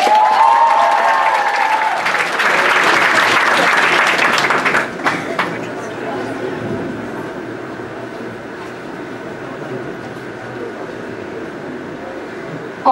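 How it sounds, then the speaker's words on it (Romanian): Audience applause for Simina Brăneanu and Iani Simos at a school freshmen's ball, loud and dense for about five seconds, then fading into low crowd murmur and room noise with faint voices. "să aplaudăm pe Simina Brăneanu și Iani Simos"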